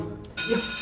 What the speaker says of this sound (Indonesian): Ya, kok bel sih?